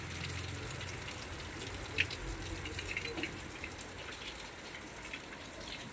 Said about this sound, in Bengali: খুব ভালো লাগছে আজকে বৃষ্টিটা